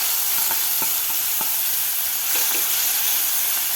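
A garlic-chili thecha sautés in hot oil over bloomed cumin and mustard seeds. The sizzle is loud and continuous, with a few soft spoon stirs tapping through it and no voices.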